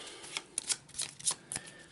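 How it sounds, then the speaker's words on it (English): A deck of Arkham Horror game cards shuffled up close, a quick series of crisp riffling bursts and flutters. "So let's give it a quick shuffle."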